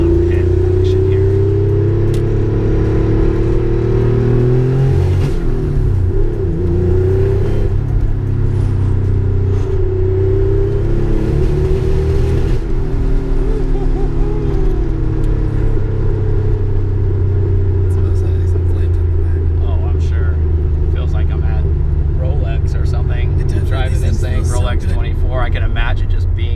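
A 1984 Porsche 911 Turbo 930 Kremer race car rumbles loudly in the pit, its engine holding a deep continuous drone with swells of revving, while a voice is faintly present.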